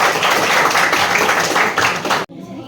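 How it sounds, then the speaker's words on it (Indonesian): Classroom applause from students, a dense burst of many hands clapping together that stops abruptly near the end and leaves near silence. "Tepuk tangan untuk kita semua"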